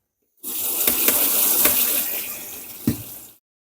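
Tap water running steadily over berries in a kitchen sink, a continuous close gushing stream that lasts about three seconds, with a few splashy spikes from the fruit, then stops abruptly.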